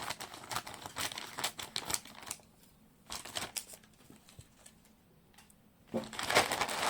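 A sealed plastic bag of British 50p coins being cut open, giving close, loud bursts of crinkling and crunching plastic that come in uneven bursts with quiet gaps between them, with no voices.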